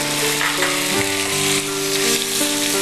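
Chopped tomatoes hit hot masala with curry leaves and sizzle loudly and steadily up close, while a faint clatter sounds over the frying.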